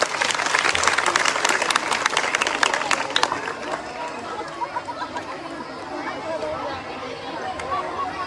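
Audience applause at a village Teej festival in Jai Singh Wala, Bathinda, rings out loud and dense for about three seconds, then fades into a murmur of crowd chatter and scattered claps.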